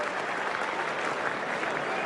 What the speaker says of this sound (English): receives the applause for a tremendous achievement